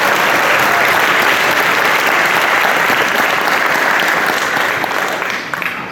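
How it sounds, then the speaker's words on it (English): An audience at a high school marching band banquet claps in a sustained, dense round of applause that carries on steadily before tapering off at the end. "Can we just throw out one more round of applause for the apple tree and Iron Temple people?"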